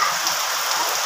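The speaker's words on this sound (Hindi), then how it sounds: "केते जोर वर्षा कर" Heavy monsoon rain pours down in a steady, close, uniform hiss that continues unbroken for the whole brief moment, with no voices.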